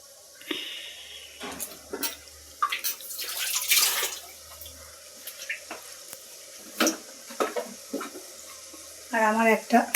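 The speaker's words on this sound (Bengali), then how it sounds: "এই সসের বাটিটা ধুয়ে একটু জল দিলাম।" Water from a rinsed sauce bowl splashes into a pan in a few short pours and trickles, close by, with a voice speaking in between.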